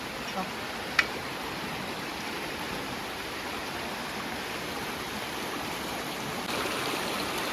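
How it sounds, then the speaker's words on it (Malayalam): Steady rushing stream water flows continuously at moderate level under light rain, a broad even wash of sound, with a single faint click near the start. "വെള്ളം ഇങ്ങനെ ഒഴുകുന്നു, ചെറിയ മഴ"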